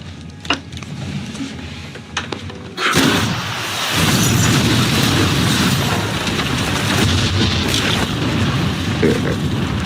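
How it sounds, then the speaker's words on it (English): A big explosion tears through Connie's restaurant in Harlem and the apartments above it: quiet ambience with faint thumps, then a sudden loud blast that rolls into a sustained rumbling roar of collapse and debris. "The big explosion at Connie's shakes all of Harlem."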